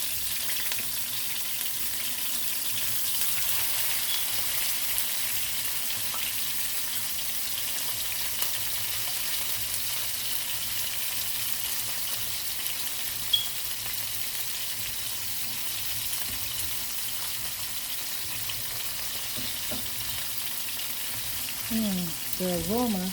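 A lamb chop sears in a pan over medium heat, giving a soft, steady sizzle that continues faintly throughout with little variation.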